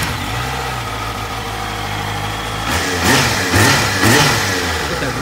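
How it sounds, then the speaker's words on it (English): A motorcycle engine with a short side exhaust idles steadily, then is revved in three short, sharp bursts that rise and fall, loud and close. "Bike sounds good, and it's got really good throttle response."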